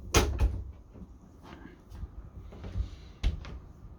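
A sliding door in a Frankia Platin luxury motorhome is pulled across, giving several soft knocks and thuds with short rolling scrapes between them, close and fairly quiet, with no talk over it.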